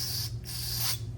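Aerosol cleaner sprays through a passage in a Kawasaki Brute Force 750 carburetor in two close, loud hissing bursts with a brief gap between them.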